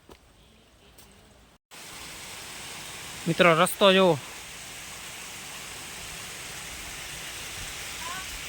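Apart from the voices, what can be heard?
rain and flowing water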